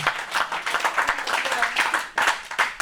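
A church congregation claps in a fast, steady rhythm, with bursts of applause rising and falling, while voices carry through it.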